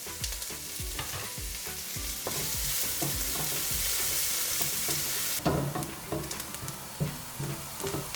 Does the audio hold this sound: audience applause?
no